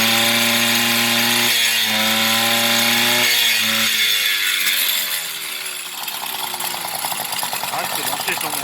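MBK 51 moped engine running, a steady buzzing two-stroke drone with clear harmonic tones that waver and then shift in pitch and roughen as the revs change, close and loud.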